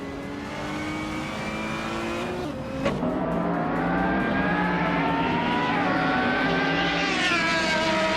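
Racing cars in a video game race roar past with loud, continuous engine tones, the pitch sweeping up and down through gear changes and passes, with a sharp burst near the middle and another rising whine toward the end.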